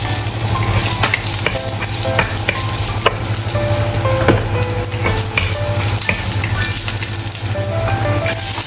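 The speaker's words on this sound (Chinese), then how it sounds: "炒香姜末，" Minced ginger being stir-fried in a wok, with a loud steady sizzle and frequent sharp spatula scrapes and taps against the metal, close up and without talk.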